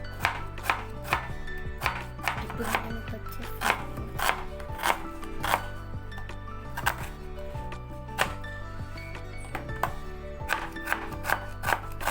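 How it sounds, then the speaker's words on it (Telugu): Onions chopped with a knife on a board for Telugu dosakaya pappu, a sharp, close series of irregular knife thuds, some in quick bursts, steady throughout with no talking. "ఆనియన్స్ కట్ చేసేసానండి"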